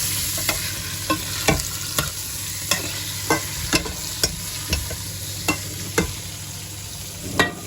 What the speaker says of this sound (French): Allez, on remue un petit peu.